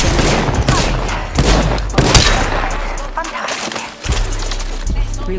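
Gunfire in Apex Legends, loud bursts of rapid shots and sharp impacts arriving in several clusters with brief gaps, close and punchy, with voices speaking over it.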